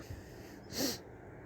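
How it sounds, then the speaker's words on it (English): One short, breathy throat-clearing burst from a man, close and fairly quiet, standing alone between pauses in his talking. "I have to always do that so I can clear my throat so I can speak."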